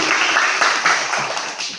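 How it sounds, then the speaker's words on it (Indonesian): Brief applause at a church children's event, a short bright wash of clapping that stays fairly loud and even throughout. "Tepuk tangan buat Injil"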